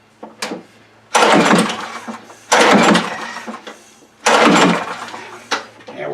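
A John Deere JS60 push mower that sat outside over winter is pull-started three times, each a loud rasping burst of the recoil cranking that fades without the engine catching, separated by short quiet gaps.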